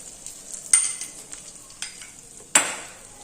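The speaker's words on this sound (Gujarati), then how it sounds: "ચણાનો લોટ શેકવો પ્રોપર ખૂબ જ જરૂરી છે।" Gram flour roasts in ghee in a pan, a soft continuous sizzle broken by a few sharp scrapes of a spoon stirring, quiet and close with no talk.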